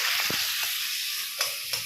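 Meat coated in salt, turmeric and raw oil sizzles as it fries in a pan, a steady close hiss with a few soft stirring knocks.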